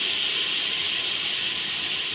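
Chopped tomatoes dropped into a hot pot for a one-pot khichdi, giving a steady, even sizzle and hiss that stays constant and fairly close throughout, with no talk.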